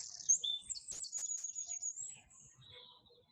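High, clear birdsong outdoors, a run of bright chirps and trills up close, quieter and sparser toward the end with faint low rustling beneath.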